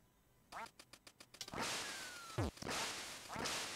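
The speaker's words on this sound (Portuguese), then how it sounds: "agora vai vir mais dois patos" Ducks in the Duck Hunt game on PS Vita quack in a quick series of sharp bursts, then louder flapping whooshes and a falling whistle, with the game noise fairly loud and no talking.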